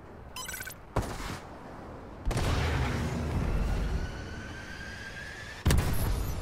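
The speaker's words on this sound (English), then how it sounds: "Friendly missile strikes inbound." Missile strike explosions in Call of Duty: Advanced Warfare: a sharp blast, then a long rolling rumble of impacts and another heavy boom near the end, loud and close.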